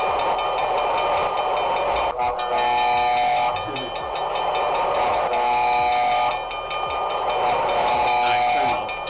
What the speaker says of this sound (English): So you hear the train?